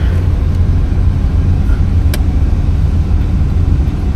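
The engine of a 1978 Corvette runs steadily just after starting, a loud, close, low rumbling idle that holds constant with one brief click partway through.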